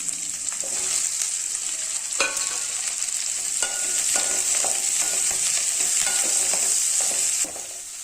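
Cut bitter gourd pieces fry in a pan with a steady, loud sizzle, while a utensil stirs and scrapes through them in repeated clacks; no voices.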